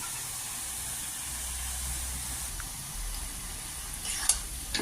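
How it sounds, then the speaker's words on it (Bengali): Paneer and vegetables for a veg momos filling sizzle quietly in a hot pan while being stirred, with a steady low hiss and a soft scrape near the end. "একটু পনিরটা হালকা লেড়ে নিলেই হয়ে যাবে"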